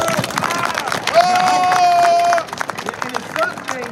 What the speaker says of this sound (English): Let's clap it up for the brother.